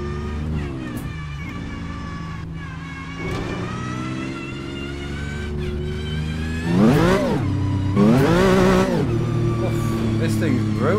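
A car engine revving hard while drifting in Assetto Corsa, pitch rising and falling through the gears with sharp bursts of high revs near the end, under someone talking.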